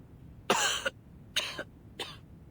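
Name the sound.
coughing and spluttering in a video game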